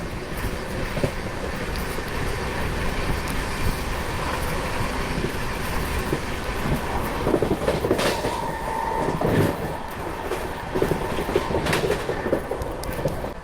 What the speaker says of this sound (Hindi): अभी अपनी अमृत भारत एक्सप्रेस पहुंच रही है भाई फतेहपुर।